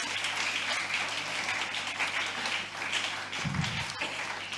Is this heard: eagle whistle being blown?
no